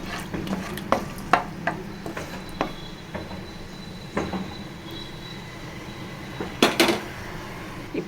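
A spoon stirs a cinnamon stick and two dried red chillies in a cooking pot over a low gas flame, giving scattered sharp metallic taps and scrapes over a low steady rumble, with no talking.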